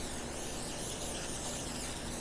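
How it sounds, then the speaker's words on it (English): Cooking spray hisses onto a pan in one continuous, fairly close spray burst lasting a couple of seconds, with no talking. "So we're going to spray our pan with some cooking spray."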